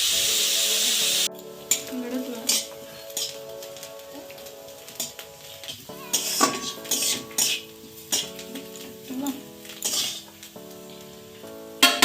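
Rice fries in oil in a wok, with crackling sizzle under repeated clinks and scrapes of a utensil against the pan, arriving in irregular bursts at close range.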